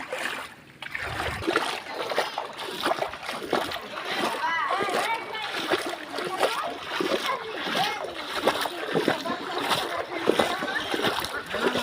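Splashing and sloshing as someone wades through knee- to waist-deep floodwater on a submerged road, steady and close throughout, with people talking over it.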